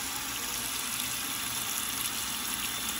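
Hot tap water running steadily into a pot for boiling macaroni, a continuous hissing rush that is fairly quiet and close, with no talking.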